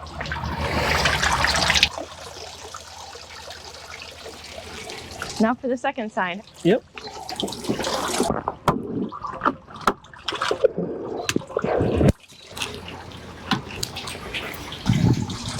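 A stream of water splashes and gushes in bursts from a center console boat's engine outlet, starting and stopping, while someone speaks briefly over it.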